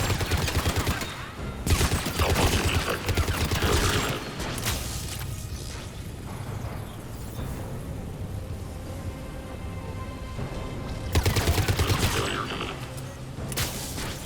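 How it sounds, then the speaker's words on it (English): Bursts of rapid automatic fire from the Cerberus Harrier assault rifle in Mass Effect 3, loud volleys early and near the end with quieter mechanical clatter and combat noise between. "This is the Cerberus Harrier. One of the most broken weapons in Mass Effect 3."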